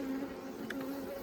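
Honeybees buzz with a faint, steady drone as a hive is opened for inspection, heard alone and without voices.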